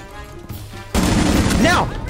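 In Rainbow Six Siege, a sustained burst of gunfire sprays a barricaded wall, loud and continuous after a quieter opening with some game noise.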